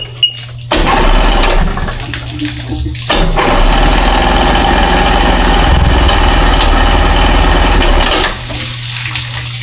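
A jet ski engine runs on a flushing water hookup, a loud, close, continuous mechanical drone with rough churning and rushing texture, cutting out briefly before restarting and then dropping away near the end.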